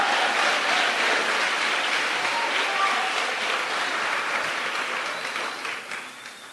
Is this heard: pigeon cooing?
no